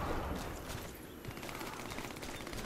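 Rapid automatic gunfire from the online shooter Warface, a steady dense stream of shots that holds at an even, moderately loud level throughout with no voices over it.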